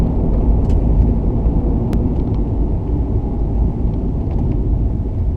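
A 1994 Ford Mustang GT driving on back roads, heard from inside as a loud, steady low engine and road rumble without pauses.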